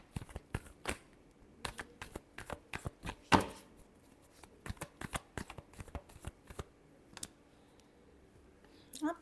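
Tarot cards being shuffled by hand give a soft, close run of crisp flicks and taps, steady and quiet, with one sharper riffle partway through.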